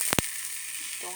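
A hot pan lightly oiled, with pearl millet bread cooking on it, hisses in a steady sizzle after water is poured over it, opening with two quick knocks and then staying constant and close.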